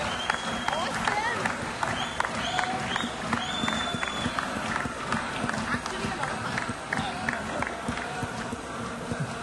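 Audience at a film music launch for Special 26 gives sustained loud applause for the music director, a dense continuous wash of clapping with cheers and voices over it throughout.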